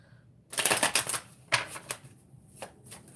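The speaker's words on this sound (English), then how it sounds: "Shuffle one more time" A tarot card deck is shuffled in a few quick, crisp bursts of riffling cards, close and fairly soft, with short pauses between them.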